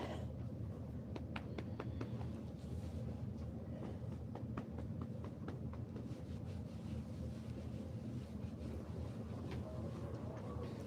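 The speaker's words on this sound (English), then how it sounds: "you hear that wind, Emmy?" Cold wind blows outdoors, a steady low rumble buffeting the microphone throughout, with faint scattered clicks over it.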